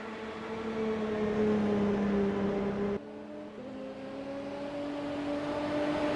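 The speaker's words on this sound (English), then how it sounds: "So Dave Hauser, he's coming through on his last lap now" Peugeot 908 race car engine in a racing video game, a steady high droning whine that holds its pitch, dips briefly as if shifting, then climbs smoothly again with no talk.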